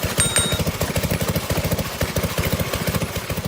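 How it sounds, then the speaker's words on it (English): A vintage steam-powered sawmill cutting timber at the Antique Gas and Steam Engine Museum, heard as a fast, even, thumping mechanical rhythm that repeats without a break, loud and close, with a brief thin whine early on. "the rhythmic sound of sawing from the vintage mill stirs the hearts of those who admire old-school mechanics"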